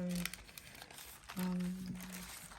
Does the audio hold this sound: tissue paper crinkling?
yes